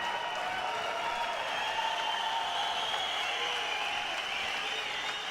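A fight crowd at a WFC17 bout between Aleksandar Rakic and Denis Chorchyp applauds and cheers in a steady, sustained roar of clapping and voices that holds level throughout.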